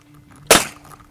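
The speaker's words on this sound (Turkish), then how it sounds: "Ses fişeğimiz patladı." A blank cartridge bursts outdoors without a barrel from about seven or eight metres away, a single sharp, loud crack that rings out and quickly fades into quiet.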